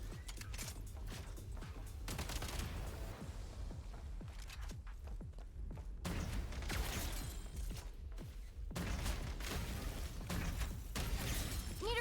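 Frag grenade blasts and gunfire in a video game crash out in a dense, continuous barrage of loud bursts and booms, layered with sharp shattering debris across the whole stretch.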